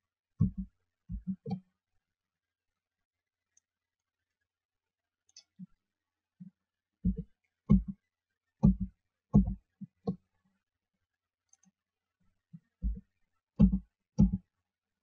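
An up arrow key on a computer keyboard is tapped in short bursts while moving through Google Street View, producing small clusters of crisp clicks separated by long silent pauses.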